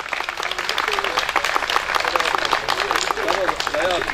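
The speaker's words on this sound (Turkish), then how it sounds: "Evet, Osman Bey'i alkışlıyoruz" Applause and clapping from a crowd at a traditional village association picnic in Kurucaabat, Zara, Sivas, during a donation auction; dense, steady clapping runs throughout with a voice speaking over it.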